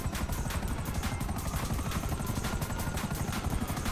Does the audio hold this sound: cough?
no